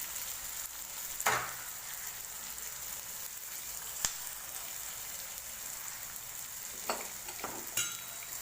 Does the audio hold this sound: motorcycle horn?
no